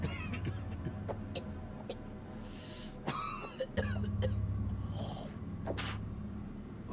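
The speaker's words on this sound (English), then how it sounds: "That's a nasty cough." Harsh coughing and throat-clearing from a character in the video game House of Ashes, a few short rough bursts over a steady rumbling game soundtrack.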